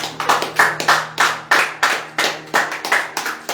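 A church congregation claps in praise during a Sunday service, with loud, close bursts of hand claps in a steady, roughly even rhythm over a low background hum.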